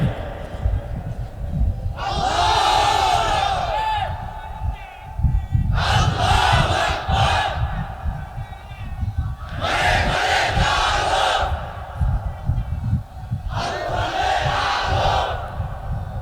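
Large crowd at an Islamic sermon shouting takbir in unison, four loud chanted bursts of massed voices separated by pauses filled with a preacher's amplified speech and background murmur.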